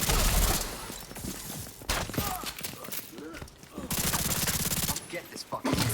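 Rapid gunfire bursts in The Division 2 during a reanimated event, loud and dense volleys with brief gaps, mixed with game effects and someone talking over parts of the action.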